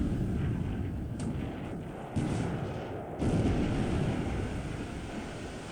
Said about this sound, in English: The first 8-inch shell or 20cm shell hit on the Dane was already a success.